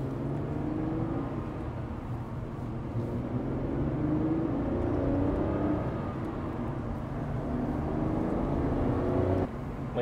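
Steady engine and road drone from inside a moving early-2000s Aston Martin, a continuous hum with smooth low tones that swell and ease slightly as it cruises along, no voices.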